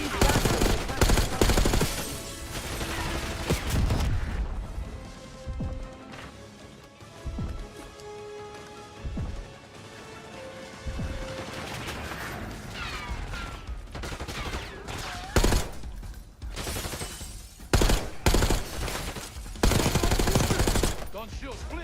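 Gunfire in the Call of Duty Black Ops 6 campaign: repeated bursts of automatic weapons fire and single shots, loud and close, coming in waves over about twenty seconds with quieter gaps between them.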